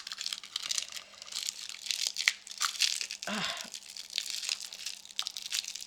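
Plastic packaging holding adhesive star decorations is torn and crinkled open by hand, a steady crackling rustle with a sharper rip in the middle, close up, with a brief exclamation from a voice.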